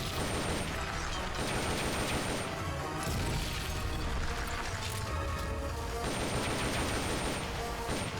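M16 rifle fire in Metal Gear Solid: Peace Walker, a steady dense run of gunshots and impacts over constant game noise, moderately loud, with short pauses between bursts.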